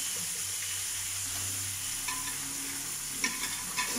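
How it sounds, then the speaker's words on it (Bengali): Dried fish (shutki) frying in hot oil in a pan, a steady close sizzle with a low hum beneath and a few soft clinks near the end, no talk. "আমি তেলের ভিতরে আমি শুটকি মাছ ভাজি করবো।"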